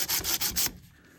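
Stainless steel trim sanded by hand before buffing: four quick, loud back-and-forth abrasive strokes in steady rhythm, close up, then stopping into quiet room tone.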